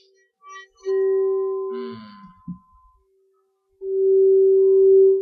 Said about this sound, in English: Let's play the bowl because the sun's coming down